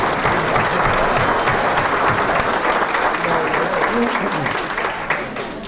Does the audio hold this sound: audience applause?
yes